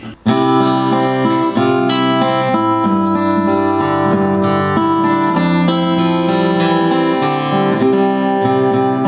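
A guitar plays the second half of a song's verse, a steady strummed chord progression, full and continuous, with no voices over it.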